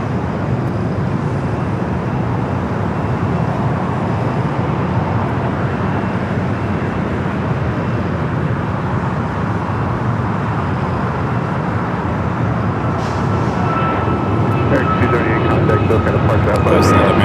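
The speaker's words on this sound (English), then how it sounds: "Good looking Dreamliner, isn't it? All right, coming in hot." A Boeing 787 Dreamliner comes in to land at LAX, a steady broad engine roar that holds at full strength throughout and rises slightly near the end, with someone talking over it.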